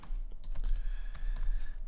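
Rapid typing on a computer keyboard, a steady run of close, crisp key clicks with no voice over them.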